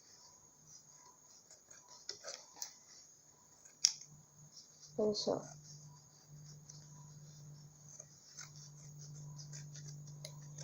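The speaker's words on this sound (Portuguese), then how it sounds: "E agora a gente vai picotar ele com uma tesoura ou com a mão mesmo." Scissors snip toilet paper into small pieces for a detergent slime, a few quiet crisp cuts in a burst near the middle, with a voice speaking briefly over low background hum.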